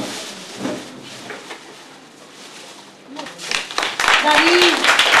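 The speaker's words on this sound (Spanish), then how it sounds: "otro aplauso a Cristian." An audience at the 2013 Spanish Constitution contest award ceremony claps for a participant. A presenter talks at first, then the applause swells loud and dense near the end.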